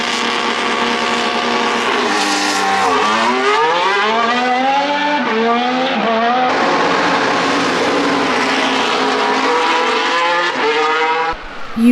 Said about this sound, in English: You really don't understand how loud these cars are until you're standing literally right beside them.